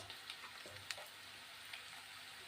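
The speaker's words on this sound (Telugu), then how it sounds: "కలర్ చేంజ్ అయ్యే వరకు వేయించుకోవాలి" Thinly sliced onions fry in a pan with a soft, steady sizzle and scattered light pops, faint and close, with no voices.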